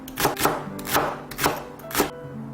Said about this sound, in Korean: 대파 1대는 반으로 길게 자르고